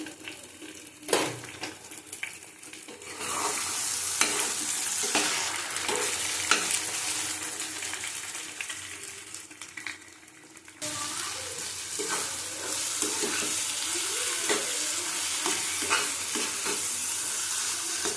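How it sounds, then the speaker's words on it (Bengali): Three eggs go into a pan of cooked-down spiced ghugni masala, giving a steady, close sizzle over stirring and utensil clinks. A brief break comes midway before the frying resumes just as strongly. "তিনটে ডিম দিয়ে দিলাম।"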